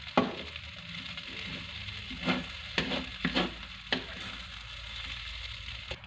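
Rice with Chinese sausage sizzles in a hot wok as it is stir-fried, with repeated scraping and tossing strokes over a constant frying hiss.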